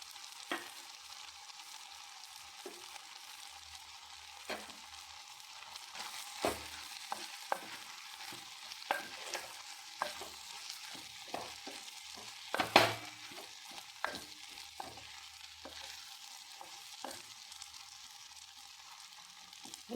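A raw plantain and egg thoran is stirred in a pan. A faint sizzle runs throughout, with irregular spoon scrapes and taps, and one sharper clatter partway through.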